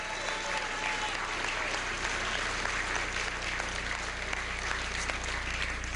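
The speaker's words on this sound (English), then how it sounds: "Give him a round of applause." Steady, dense applause from a large crowd at an election-night victory event for a Pennsylvania winner, loud and continuous throughout.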